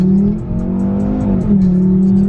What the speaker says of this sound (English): I'm spinning tires, I'm doing a burnout.